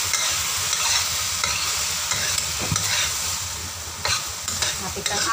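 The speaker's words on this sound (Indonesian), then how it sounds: "Kita aduk-aduk." Continuous sizzling of bottle gourd and beef frying in a hot wok, with scraping and clinking of a utensil being stirred through it, no voices.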